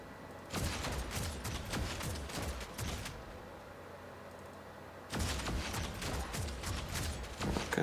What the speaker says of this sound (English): I'm going to be shooting with the Devastator once again